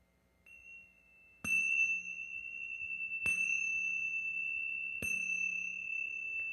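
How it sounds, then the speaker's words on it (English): Three meditation chimes struck one after another at roughly two-second intervals, each a clear, bright metallic ring that sustains and overlaps the last, heard alone in a quiet room. "You'll hear 3 chimes before we start and 1 at the end."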